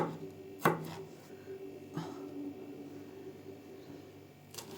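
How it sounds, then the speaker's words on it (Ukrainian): A knife chopping onion into strips on a cutting board, a few sharp thuds spaced about a second apart, close and clear with no speech. "Полосочками такими поріжемо"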